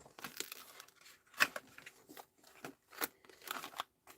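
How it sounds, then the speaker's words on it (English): Several short, sharp scissor snips and crinkly cuts through paper come in irregular bursts, close and fairly quiet, with brief pauses between them. "I think the scissors might have to come out."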